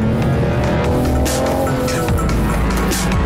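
A BMW 4 Series Coupé driven hard through corners, its engine note steady and loud with tyres working against the road, heard close and alone.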